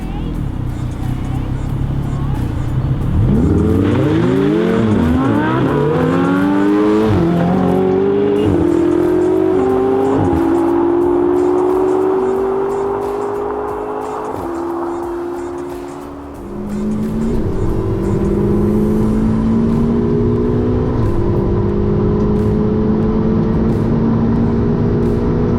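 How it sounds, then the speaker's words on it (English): An Audi R8 V10 Plus and a McLaren 600LT launch in a drag race, the engines roaring loudly and climbing through several quick gear shifts, fading briefly, then revving up again over background crowd chatter. "Beat the Ferrari in an Audi R8 V10 Plus."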